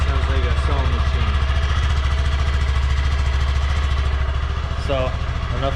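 A Honda Grom motorcycle with its stock exhaust idles quietly in a fast, even putter that sounds like a sewing machine, close by, with a brief faint voice now and then.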